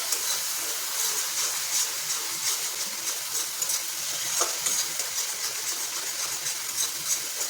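Garlic, ginger and chili paste sautéing gently over low heat, giving a steady soft sizzle and hiss with faint stirring clicks throughout, no talking.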